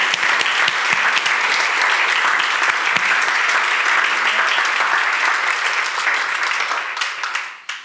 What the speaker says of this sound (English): Let's give a big round of applause for all those who serve in Redemption Kids.